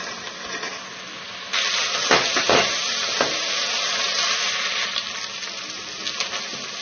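Onions and ginger-garlic paste fry in a pan for fried rice with a continuous crackling sizzle that grows louder partway through, while a few scraping stirs of a spatula stand out.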